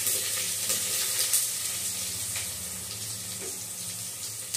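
Chopped onions frying in hot oil with shahjeera (caraway cumin) in a home kitchen, giving a steady, dense sizzling hiss that runs unbroken throughout with no talking.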